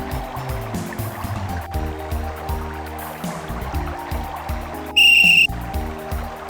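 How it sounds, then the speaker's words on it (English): A magic whistle in the point-and-click game Simon the Sorcerer blows once as a short, shrill, piercing tone about half a second long. It rises sharply out of background music near the end. "It's a magic whistle."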